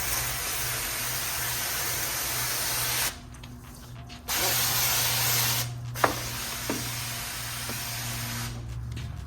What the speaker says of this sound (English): You essentially just push the water off using